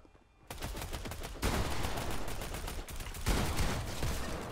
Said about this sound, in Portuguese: Nossa, um tiro!